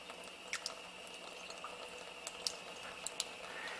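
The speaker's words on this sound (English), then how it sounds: "We'll fill the tube up about half again and add our 3 or 4 drops" Water from a water ionizer spout trickles into a test tube, a faint continuous hiss and splash broken by a few small drip-like plinks.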